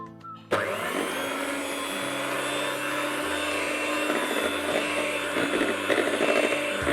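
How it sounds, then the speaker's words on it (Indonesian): An electric hand mixer on low speed beating sifted cocoa powder into a thick layered-cake batter, switching on abruptly and then running as a steady, close motor whine with faint bowl rattle. "ini boleh kita aduk dengan mixer sebentar saja"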